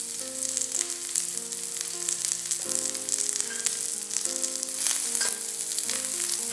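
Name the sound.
garlic, spring onions and carrots stir-frying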